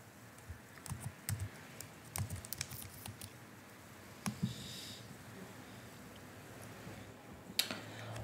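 Keys on a computer keyboard are pressed in short bursts while a password is entered, producing quiet, close clicks with brief pauses between the runs.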